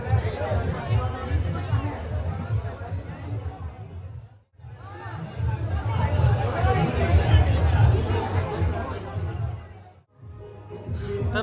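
Dense crowd chatter fills a langar shelter for Amarnath pilgrims, many voices babbling together at steady volume, broken by two brief drops near the middle and end.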